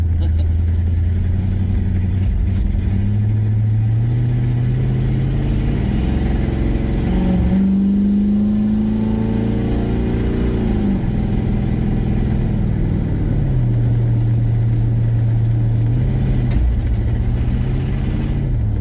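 A 1985 C30 truck's swapped-in gas engine with a junk carburetor and timing problem runs close by, revving up and sinking back slowly, the idle hanging high before it settles, loud and continuous.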